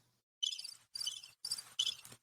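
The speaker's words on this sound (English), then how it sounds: "Crickets." Crickets chirping in four short rapid bursts separated by brief gaps, clear and close against an otherwise silent background.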